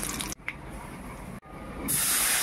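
Turmeric water hits hot mustard oil left from frying fish with black cumin seeds, giving a loud, steady sizzling hiss that briefly cuts out twice before surging brighter.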